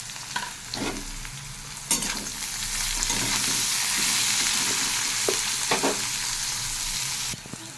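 Bitter gourd, pumpkin and onion frying together in a pan, a steady oily sizzle that swells in the middle, broken by occasional scrapes and clacks of a spatula stirring the vegetables.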